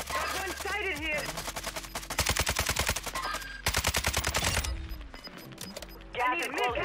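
Rapid automatic gunfire from Call of Duty: Warzone rattles in long bursts, with a voice talking over the opening and closing seconds.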